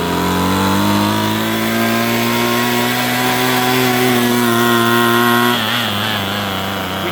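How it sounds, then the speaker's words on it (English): A two-stroke string trimmer that will only run on half choke, idling loud and close with a steady buzzing drone that wavers slightly and dips briefly near the end. "we've let it run for a minute, and it's running pretty good. It's still at half choke"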